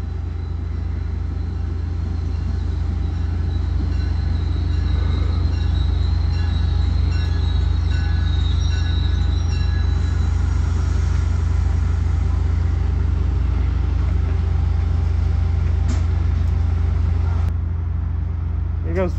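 MBTA commuter train hauled by an F40 locomotive departing, a steady loud low engine drone with rail noise and faint squealing tones, continuous for the whole stretch.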